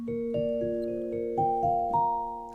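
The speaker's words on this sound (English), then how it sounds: "Celesta." Celesta preset on a Studiologic Numa X Piano GT keyboard: soft, bell-like chimed notes that ring and sustain, stacking into gentle chords as new notes enter one after another, with no voices present.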